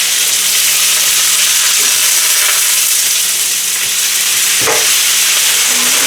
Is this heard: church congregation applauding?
no